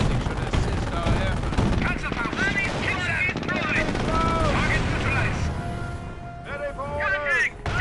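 Dense bursts of gunfire and rapid automatic shooting from the Company of Heroes strategy game, played on a Samsung Android phone, crackle throughout alongside game unit voice callouts.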